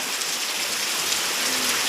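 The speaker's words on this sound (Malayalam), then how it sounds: "നല്ല ശക്തിക്കുള്ള മഴയായിരുന്നു കേട്ടോ അടിപൊളി മഴയായിരുന്നു" Heavy rain pours down in a steady, dense hiss, close and constant throughout, with no thunder and no voices.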